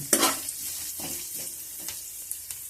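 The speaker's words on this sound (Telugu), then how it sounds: "ఉల్లిపాయలు, పచ్చిమిరపకాయలు, పోపులు అన్నీ కలిసి వేసేటట్టు మనం బాగా వేయించుకుందాం" Onions, green chilies and tempering spices hiss softly in a pan on a low flame while a spoon stirs and scrapes a few times, close by with no talking.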